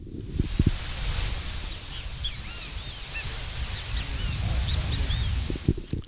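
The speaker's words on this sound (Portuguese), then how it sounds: "Pois é o canto dos pássaros." Birds singing in a quiet natural area where visitors must keep their voices low: scattered faint chirps and short whistled phrases over a soft rustling background, with a few low thumps near the start and end.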